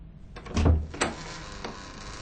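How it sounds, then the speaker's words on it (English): A bedroom door in a dark upstairs room swings open with a dull thump, then a second knock and a faint tap as it settles, heard close in a quiet space. "Gordon opened the door of Lord Mccoy's room, and they all looked in."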